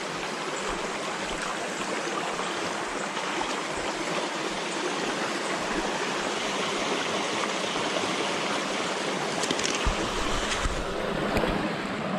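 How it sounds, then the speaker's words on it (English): A big river in the Jamaican wild rushes steadily, a dense, constant wash of flowing water, loud and close, with no voices over it. "so reach out to the river now guys. Yeah. Nice big river"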